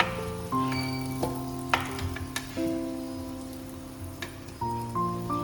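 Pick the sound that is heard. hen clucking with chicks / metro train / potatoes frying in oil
potatoes frying in oil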